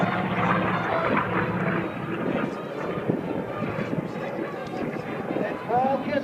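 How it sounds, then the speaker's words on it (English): A Douglas AD-4 Skyraider flies at an air show, its engine a steady, broad drone heard at a distance under continuous announcer speech over the public address. "Kevin Ciabaldi, the controls of the Douglas 84 Skyraider of the Military Aviation Museum, Virginia Beach, Virginia."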